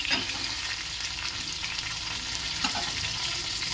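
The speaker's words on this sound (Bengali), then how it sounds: "একটু কড়া করেই মাছটা ভাজছি।" Fish fries crisp in a pan with a quiet, continuous sizzle and faint bubbling hiss that holds steady the whole time, with no talking over it.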